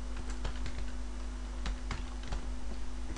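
Keys clatter on a computer keyboard as text is typed, a steady run of quick, close clicks with a few louder taps over a constant low electrical hum.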